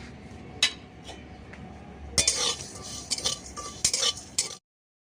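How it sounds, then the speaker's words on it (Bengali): Radhuni spice dry-fries in a pan, a faint crackle under sharp metallic scrapes and clinks of a spoon being stirred, the clatter busier in the second half before cutting off abruptly. "এই যে আমি এটা এখন ভালো করে শুকনো করে ভেজে নিই"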